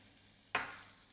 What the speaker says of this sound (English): I will first put my margarine into my saucepan